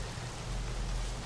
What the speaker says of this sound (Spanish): Y lo malo es que se nos ha puesto a llover.